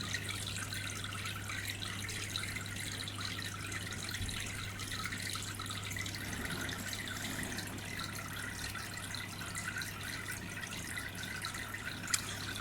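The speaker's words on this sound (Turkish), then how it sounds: "motorlardan dolayı dışarı böyle su sıçrıyor" Water from aquarium pump motors splashes and sprays continuously, a steady even wash of trickling and spattering over a low constant hum, with no voices.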